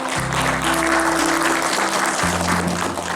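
Audience applause for a speaker's presentation at a 160th-anniversary event in Quillota, a steady dense wash of clapping lasting throughout, moderately loud, with a low steady hum beneath it.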